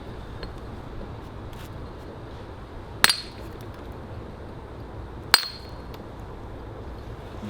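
Hammer striking a chisel while dressing natural stone for masonry; two sharp, isolated metallic clinks a couple of seconds apart over a quiet background hiss, close up.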